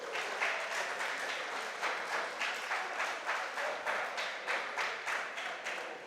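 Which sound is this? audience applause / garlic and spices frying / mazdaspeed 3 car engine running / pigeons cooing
audience applause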